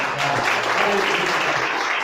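A church congregation breaks into sustained applause during a sermon, a dense steady clatter of many hands with faint voices mixed in.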